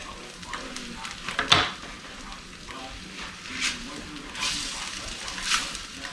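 Eggs seasoned with salt and pepper fry in a pan in a Southern home kitchen, giving a steady close sizzle with scattered louder crackles and spatters.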